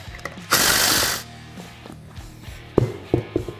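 Ratcheting tool working on the rear wheel of a Polaris Ranger XP1000 UTV, a loud burst of rapid whirring followed by scattered clanks and taps of tools and parts, with no talking.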